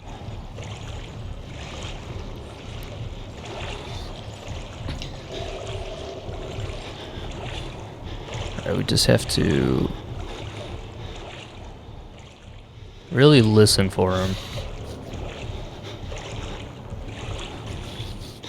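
Water sloshes steadily as a character wades through deep water in the Outlast video game, a low continuous wash punctuated by two louder splashing bursts, with one spoken line near the start.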